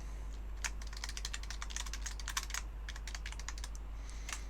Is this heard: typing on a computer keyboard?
yes